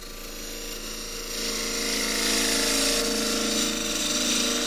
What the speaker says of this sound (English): I'm going across the end grain, and I usually do that with a 3/8 spindle gouge